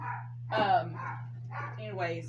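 Dogs bark in a few short bursts close by, overlapping someone speaking over a steady low electrical hum indoors.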